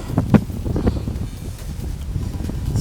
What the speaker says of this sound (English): windy tonight.